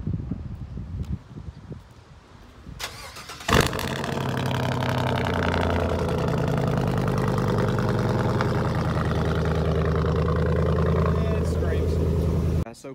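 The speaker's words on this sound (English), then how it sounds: "but first, time for a cold start." A pickup truck wearing Atturo Trail Blade MT tires cold-starts outdoors in wind, the engine catching with a sharp burst and settling into a loud, steady rumbling idle, with wind buffeting the microphone before the start.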